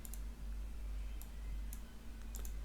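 Mouse clicks at a computer desk, a few sharp isolated clicks spread irregularly over a steady low electrical hum, quiet and close.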